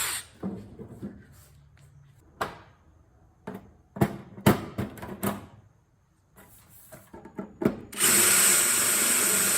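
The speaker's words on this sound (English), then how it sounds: "I think we can confidently drill another hole." Short bursts of a power drill spinning up and stopping several times, with tool clatter between, ending in a longer sustained drilling run through metal on a Zenith CH 750 Cruzer aircraft build.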